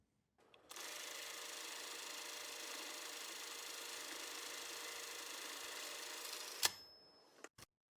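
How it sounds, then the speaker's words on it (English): A 35mm film camera runs with a steady mechanical whir for several seconds, then a sharp ding rings out, followed by a couple of brief clicks, close and fairly quiet. "It says it's a camera."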